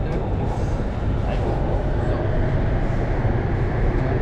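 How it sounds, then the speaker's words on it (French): Bangkok MRT metro train running with a steady, loud low rumble and broadband roar throughout, like riding inside a carriage, with faint voices occasionally in the background. "Métro de Bangkok. Celui-ci, c'est le MRT."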